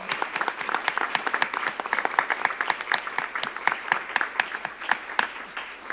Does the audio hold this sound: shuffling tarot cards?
no